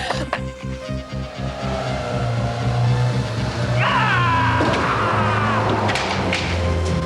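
An engine revs and climbs in pitch as a vehicle accelerates hard, rising roar building over a steady low rumble, loud and close.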